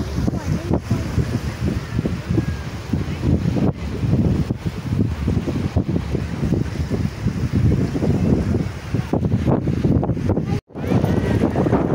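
Strong wind out at sea from a small boat buffets the microphone in a loud, ceaseless low roar, with brief gusty dropouts and a voice talking intermittently underneath.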